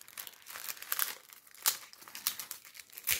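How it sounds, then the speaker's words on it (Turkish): A plastic package of coloured sand for sand painting is opened, with close crinkling and crumpling in irregular bursts throughout and no talk. "Paketimizi açalım. Aç bakalım. Açıyorum."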